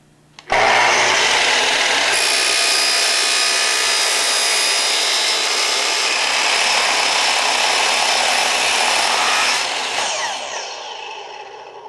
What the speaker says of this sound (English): there is quite an advantage to using a power miter saw like this